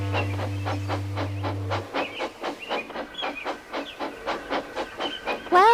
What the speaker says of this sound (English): Thomas puffed away quickly.